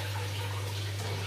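Water pours steadily into a Juwel Rio 240 aquarium during a water change, a continuous close rushing wash over a low steady hum, with no voices.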